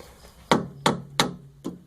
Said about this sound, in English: I'm going to work on hammering these things out of their seat here.